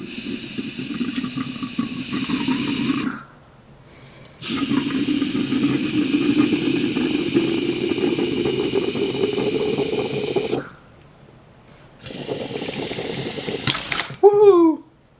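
Flush fluid sprays out of a Seiko Seiki AC compressor from a 1994 Saab 9000 in loud, hissing bursts that start and stop several times, ending with a brief shout.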